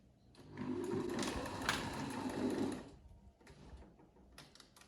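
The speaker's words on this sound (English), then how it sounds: "stitching it in place with a 1 centimeter seam allowance" A sewing machine runs a pocket seam with a 1 centimeter seam allowance on a duster jacket, whirring steadily for about two and a half seconds up close before stopping, with quiet handling sounds after.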